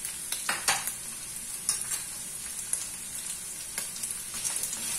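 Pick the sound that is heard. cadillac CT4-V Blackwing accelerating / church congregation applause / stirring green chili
stirring green chili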